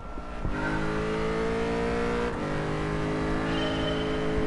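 Race car engine in GT Sport revving hard and loud, with sustained high-pitched harmonic roar, a brief dip near the middle, then climbing pitch again toward the end.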